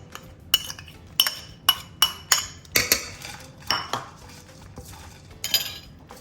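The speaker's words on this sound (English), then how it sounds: "we're going to start mixing it all together into our scramble." Utensils scrape and clink against a bowl or pan while potatoes, egg and vegetables are mixed into a breakfast scramble, about a dozen sharp, close metallic taps in an uneven rhythm with no talk.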